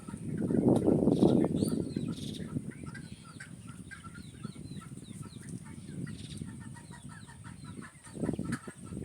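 A flock of restless chickens in a poultry shed during extreme heat clucks and murmurs continuously, with a burst of wing flapping near the start and scattered calls throughout.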